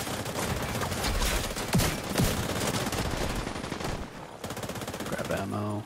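Rapid automatic gunfire from a turret in a video game, a dense sustained stream of shots at close range with a few sharper cracks, easing off briefly near the end.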